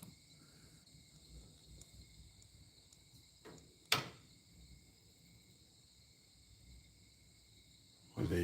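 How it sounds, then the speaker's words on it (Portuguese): Frogs croaking by a lake at night form a steady, faint chorus of continuous high droning, broken once by a single sharp knock near the middle, with no talking. "Barulho dos sapos."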